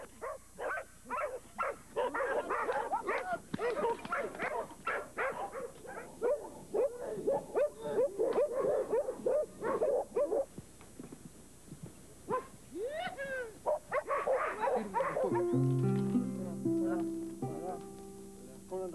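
Dogs bark repeatedly in quick bursts while gauchos tame a horse, under a narrating voice; near the end a steady tonal music-like drone enters.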